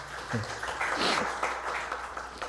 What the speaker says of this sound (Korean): 우리 소영이 오랜만에 왔으니까 박수하겠습니다